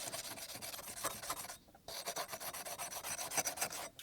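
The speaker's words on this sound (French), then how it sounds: "le bout de bois, lui, il est vraiment là pour garder la boue en contact avec la lame" Rusty axe blade rubbed hard with a wooden stick pressing mud against the steel, a close, steady gritty rasp in rapid back-and-forth strokes with one brief pause partway through.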